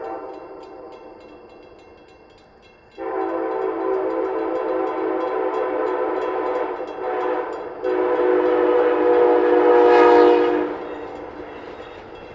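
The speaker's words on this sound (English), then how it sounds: "Here we found the gates lowering for Amtrak's Pere Marquette" Amtrak's Pere Marquette passenger train approaches a grade crossing on a CSX line, a loud sustained horn blast that swells and shifts pitch as the train nears, over rumbling rail noise.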